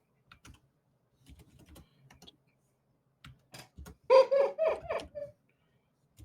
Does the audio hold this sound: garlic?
no